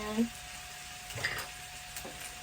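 Broccoli with vegetable bouillon simmers in a pot on a camp stove inside a van, giving a faint, soft bubbling hiss with a couple of small clinks.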